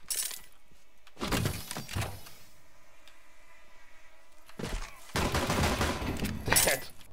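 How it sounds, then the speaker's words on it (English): Video game gunfire comes in two loud bursts of rapid shots, one early and a longer one near the end, separated by a quiet stretch, with players talking over the action. "Getting shot at."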